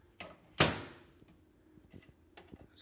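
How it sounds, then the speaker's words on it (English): The door of a Panasonic NN-SD377s microwave pops open with one sharp, close latch clack, followed by a few faint clicks and light handling noises in an otherwise quiet room. "oh, the door opens"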